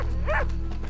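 A dog in Red Dead Redemption II gives a single short bark, close and clear, over a low steady background hum.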